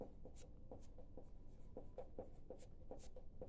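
An equation is handwritten during a class 10 maths lesson, with quiet, regular scratching strokes that repeat steadily and sound close.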